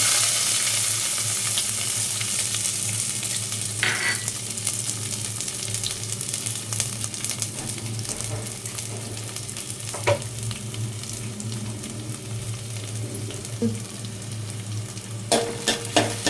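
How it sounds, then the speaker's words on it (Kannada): Garlic frying in a pan over a low flame, giving a steady, close sizzle throughout with a few sharp clicks of a utensil against the pan. "ಸೊ ಇದನ್ನು ಸ್ವಲ್ಪ ಚೆನ್ನಾಗಿ ಫ್ರೈ ಮಾಡ್ಕೋಬೇಕು."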